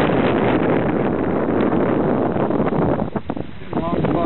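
A steady breeze buffets the microphone on a sailboat, a continuous rushing wind noise with faint water sounds beneath and a voice briefly heard near the end.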